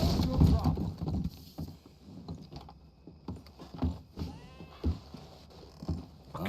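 A video game horse clops along with soft, uneven hoofbeats under intermittent talking and some mechanical clicking.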